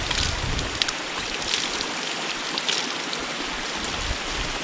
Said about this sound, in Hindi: मलाना जाते हुए सामने है झरना